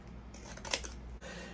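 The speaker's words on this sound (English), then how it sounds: "We take our scissors and cut it down." Scissors slice through a piece of thin cereal-box cardboard, a single crisp cutting stroke with a brief rasping snip, close and fairly quiet against a faint background hiss.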